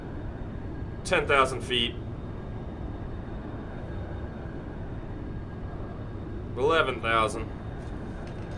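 Simulated SR-71 Blackbird jet at full afterburner near Mach 1 in X-Plane 11, a steady broadband engine roar running throughout under two brief spoken altitude callouts.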